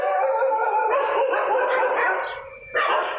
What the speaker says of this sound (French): il y a un chien qui a reçu un morceau de viande et les autres se bagarrent.